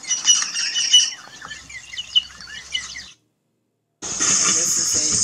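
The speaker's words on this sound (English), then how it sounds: "this is a guinea fowl." Guinea fowl calling in the wild on safari: dense, rapid chattering calls in busy bursts, fairly close and loud, breaking off into a second of silence before another loud run of harsh calls.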